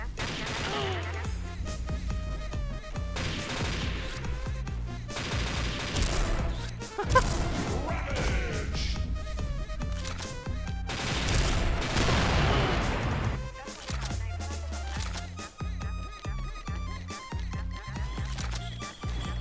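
Gunfire from the XSHOT video game rattles in dense, rapid bursts and volleys, mixed with crashing impacts over a busy tonal game soundtrack, loud and nearly continuous.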